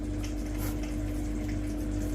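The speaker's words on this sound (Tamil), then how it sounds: "ஒரு கிளாஸ் தண்ணி அதில் ஊற்றிட்டு" A glass of water splashes into a cooking pot of sautéed coriander, a continuous close pour with a steady hum underneath.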